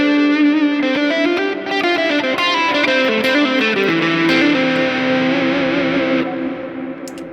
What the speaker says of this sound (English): This pedal also has a gate that you can open up the back of the pedal and you can switch a gate on